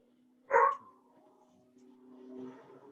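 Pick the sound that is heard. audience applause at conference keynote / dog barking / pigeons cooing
dog barking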